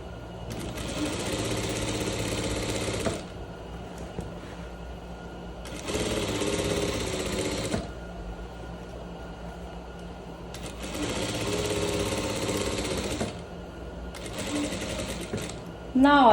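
Sewing machine stitching pleats on trousers, running in three long bursts separated by pauses, with a shorter fourth burst near the end; steady motor whir close by, with someone speaking Portuguese during the pauses.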